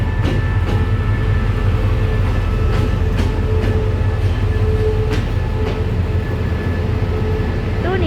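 A long passenger train with JR coaches pulls into Hua Lamphong station on a Saturday evening, a steady, loud rolling rumble with intermittent clanks and rail squeals throughout.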